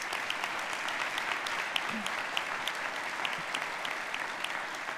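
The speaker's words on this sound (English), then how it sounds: "So a big round of applause for those groups." An audience at an Indivisible Central Ohio kickoff event applauds, a dense, continuous patter of many hands clapping at moderate volume for the whole stretch.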